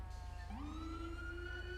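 A police siren from a FiveM emergency lighting system in the GTA V game switches on partway through, rising into a steady wail that holds loud and close with no talk over it.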